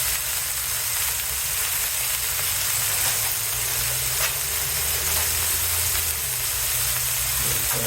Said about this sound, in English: Got the bacon on here all nice like that.